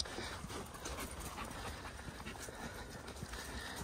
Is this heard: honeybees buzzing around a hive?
no